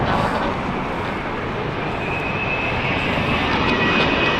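A Virgin Atlantic Airbus A330neo airliner at Heathrow gives off a steady, fairly loud broadband engine roar, a constant wash of jet noise with a faint high whine rising in the middle.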